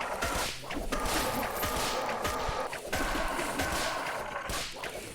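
Repeated whip explosions from a weapon in Rec Room's Crescendo game mode, a dense run of sharp cracks and bursts over a constant, busy game-sound backdrop.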